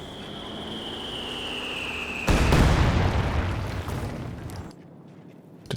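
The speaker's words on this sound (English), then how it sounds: "Oh, is that double heavy mortars now?" Heavy mortar shells exploding in Company of Heroes 2, a loud sudden blast cutting in over a whistling tone and steady battle rumble, then a long fading roar and a brief thump at the end.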